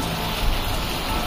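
Heavy rain pours down over an outdoor market, a dense, even hiss of falling water heard close and steady, with no voices.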